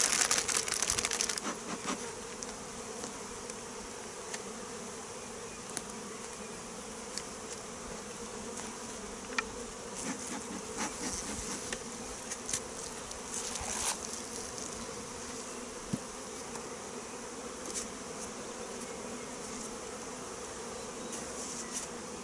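Honey bees buzz steadily around an opened hive during a spring inspection while a small colony is moved to a new box, a dense, continuous drone with scattered clicks and handling knocks throughout.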